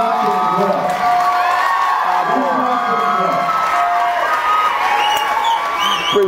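Audience at a stand-up comedy show breaking into applause and cheering, with whoops and crowd noise filling the room, a loud and sustained wash under a voice speaking over it.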